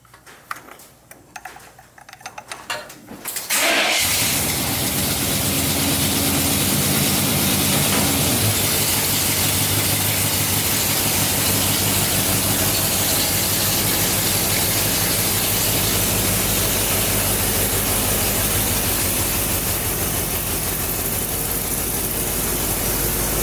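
A Jeep FSJ Cherokee Chief engine idles at a steady, loud, close drone after a few quieter seconds of shuffling, running evenly with a faint ticking rhythm and no voices.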